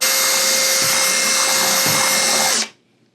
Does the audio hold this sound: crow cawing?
no